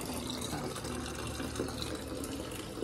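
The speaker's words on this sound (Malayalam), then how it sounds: "എനിക്ക് വെള്ളം നിറയ്ക്കണം ഞാൻ വെള്ളം നിറയ്ക്കാൻ വേണ്ടി വന്നതാണ്" Tap water runs steadily into a bottle, a close, continuous gushing fill with no pauses and no talking.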